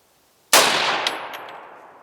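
A single sharp, loud gunshot from a Remington Model 8 semi-automatic rifle cracks out after a moment of quiet, followed by a long decaying echo and a few faint metallic clinks as it fades.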